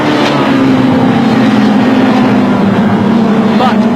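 Suzuki racing motorcycles roar past during a race, a loud continuous engine drone that shifts in pitch as they go by, with a commentator talking over it.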